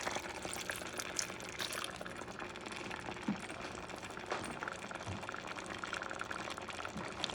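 Wine is poured into a pot of braised beef neck bone stew, a soft, steady liquid trickle heard faintly against quiet kitchen background noise, with no talking.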